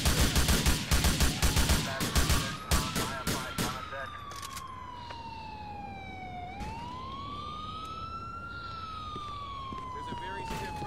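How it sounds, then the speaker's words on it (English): Gunshots in GTA with the LCPDFR police mod, heard as a rapid series of loud close cracks at the start, then a police siren wailing up and down and holding on alone. "Shots fired!"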